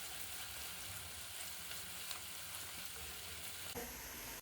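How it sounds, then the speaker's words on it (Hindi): Onions fry in hot oil for a chicken and chickpea karahi, giving a steady, dense sizzle with faint crackles and a light stirring scrape near the end, quiet and close with no talking. "प्याज को हम हल्का गोल्डन कलर आने तक फ्राई करेंगे।"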